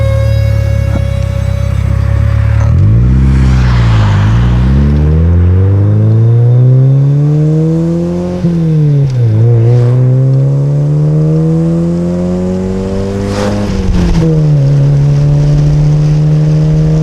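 A Honda Civic with its turbo removed revs hard and steadily, engine pitch rising and falling through several sweeps, loud and close with a coarse, diesel-truck-like tone.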